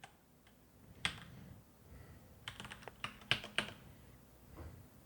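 Password being typed on a computer keyboard during a MySQL 8.0.22 Server install on Windows 10: a short scattered run of crisp, close key clicks in uneven bursts, with no voices.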